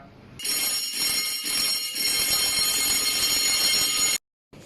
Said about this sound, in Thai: ปุ่ม evacuate นะครับ ปุ่มนี้นะครับ ปุ่มสีแดงนะครับ จะเป็นการปล่อยเสียงกระดิ่งนะครับ